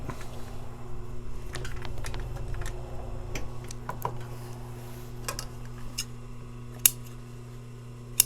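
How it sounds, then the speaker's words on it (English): Scissors snip through a cushion zipper at a sewing table, a scatter of sharp close clicks and snips over a low steady hum, with no talking. "Just cut the zipper off, no big deal."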